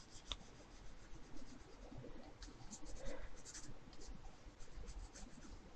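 Faint, close scratching of a pencil sketching on paper, in quick irregular strokes with soft rubbing between them.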